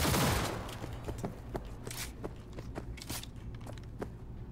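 Rifle and pistol gunfire in the Cyberpunk 2077 video game: a series of sharp shots at an uneven pace, with a heavier burst at the start, over a low background.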